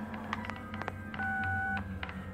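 Phone dialing and ringing tones in the horror video game Answer Knot: a few short beeps, then a steady two-tone ring lasting about half a second, quiet and close.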